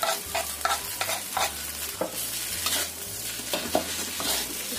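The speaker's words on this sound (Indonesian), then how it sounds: "Kita aduk sampai rata." Spoon stirring martabak tahu filling of tofu with coriander and spring onion leaves in a hot pan, a series of scraping strokes over a steady low sizzle.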